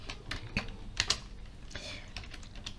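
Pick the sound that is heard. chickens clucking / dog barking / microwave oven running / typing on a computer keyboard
typing on a computer keyboard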